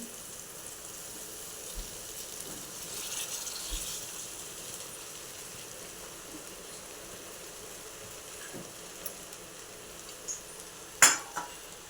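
Poha with turmeric is stirred in a hot pan: a soft continuous sizzle with gentle scraping, ending in a few sharper clinks of a spoon against the pan.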